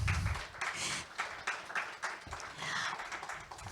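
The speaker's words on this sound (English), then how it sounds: "So I think she deserves a big hand of applause." An audience at a panel discussion for a policy roundtable breaks into applause, a steady wash of many hands clapping at moderate distance that carries on for a few seconds.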